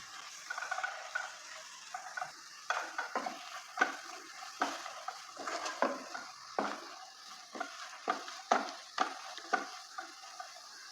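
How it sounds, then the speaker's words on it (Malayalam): A spatula stirs chilli powder and garam masala frying in a pan for a Kerala prawn roast, giving repeated scraping strokes in an uneven rhythm over a faint sizzle, close and fairly quiet, with no talking. "ഇനി ഇത് ഇളക്കി ഇതിൻ്റെ പച്ചച്ചുവ പോകുന്നവരെ ഇളക്കി ഇതൊന്ന് മൂപ്പിക്കുക"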